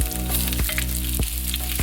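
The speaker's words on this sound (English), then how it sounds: "we're gonna go ahead and start frying our garlic" Garlic and onion sizzle steadily in hot oil, a loud, continuous frying crackle with a few soft scrapes of stirring.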